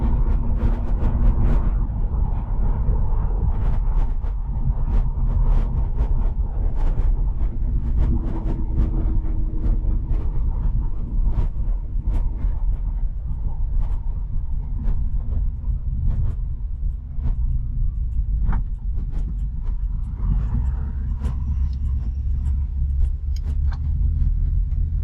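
A car with a radiator upgrade rolls along the road, its steady low engine and road rumble continuous and close, with scattered clicks and knocks over the drone as it nears a gravel lot.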